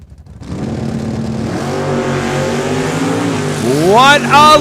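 A Dodge Charger drag car launches off the starting line at Saskatchewan International Raceway, its engine roaring loud and close and then rising steeply in pitch as it accelerates, with an announcer talking over it.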